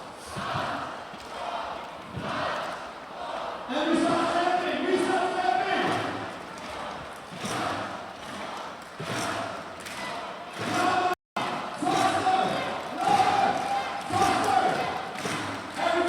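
Crowd at a women's cloth dodgeball world championship gold-medal final between Austria and Northern Ireland, a steady roar of cheering and chanting that swells and pulses throughout, with a commentator's voice running over it.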